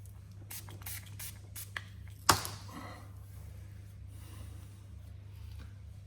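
Several quick, close spritzes of cleaner-releaser hit an Audi body panel during paintless dent repair, short hissy bursts with one sharper spray in the middle, over a low steady hum.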